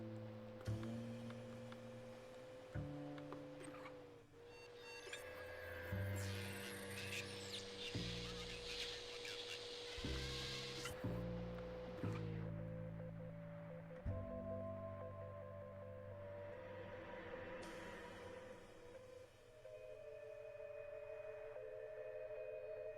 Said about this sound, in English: It's fucking Morse code.